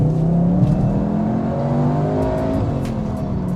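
A turbocharged CUPRA Leon Sportstourer wagon accelerates hard from inside the cabin, its engine note climbing steadily in pitch with a brief shift dip, loud and continuous.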